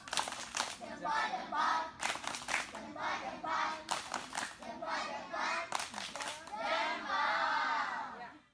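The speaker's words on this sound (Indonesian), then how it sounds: "Kita kasih tepuk jempol dulu biar Cinaya semangat mengerjakan tugas." A group of schoolchildren at an elementary school chant and clap a rhythmic thumb-clap cheer together, loud voices in unison broken by short bursts of clapping.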